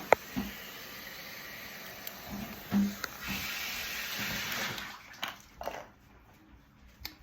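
Tap water runs and hisses steadily while a plastic lid is rinsed, with a few close knocks and splashes. The flow fades toward the end, and there is no talking.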